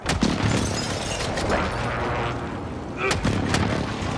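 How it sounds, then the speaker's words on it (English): Precision airstrike explosions in the Warzone video game, heavy booming blasts and cracks in quick succession, loud and close, with voices talking over them. "Enemy precision airstrike. Take cover."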